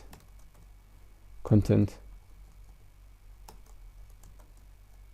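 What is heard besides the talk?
typing on a computer keyboard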